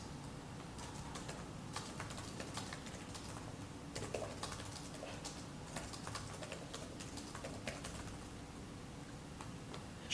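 Steady keyboard typing on a computer, rapid close key clicks continuing throughout over a faint background hum.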